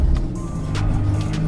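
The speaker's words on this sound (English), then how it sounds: "We're gonna go drive it down the road and see how it feels." A Jeep TJ with stretched wheelbase and retuned coilover shocks drives down a road, a loud steady engine and tire rumble close by with a few brief higher surges and no talk.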